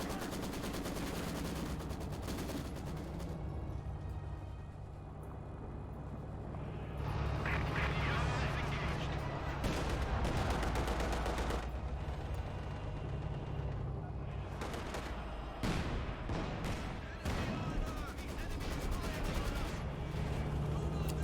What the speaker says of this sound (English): Now we see the coordinated artillery going in once again on the Maxim